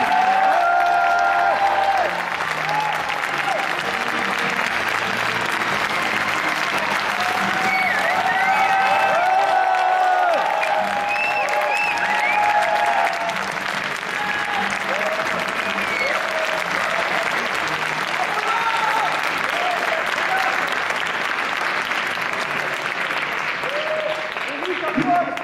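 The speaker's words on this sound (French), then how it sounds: "Je vous demande d'applaudir Dom Fouria et Éric Legrand." Sustained audience applause fills a dubbing conference hall as two guests come on stage, a dense steady clapping crowd lasting throughout with some cheering and a few voices mixed in.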